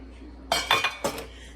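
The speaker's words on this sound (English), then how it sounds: "I'm gonna add 2 eggs. And my eggs are farm fresh, so I do crack them in a bowl first" Farm fresh eggs cracked into a bowl: a few sharp shell taps and clinks against the bowl in quick succession, close and clear over quiet room tone.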